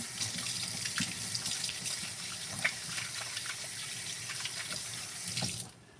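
A kitchen tap runs steadily while someone washes their hands during breakfast meal prep. The close, continuous splash into the sink stops abruptly at the end.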